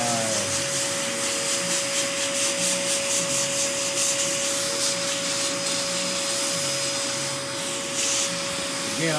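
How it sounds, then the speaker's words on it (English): A vacuum cleaner runs continuously with a steady high whine and airy hiss, held close while sucking dust out of a PlayStation 4 console that has never been cleaned. "I'm about to vacuum this out right here"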